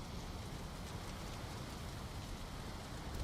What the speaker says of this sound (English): Right, and now it's still raining?